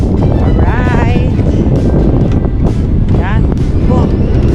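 Strong wind buffets the microphone in a constant heavy roar while fishing. Voices call out faintly underneath.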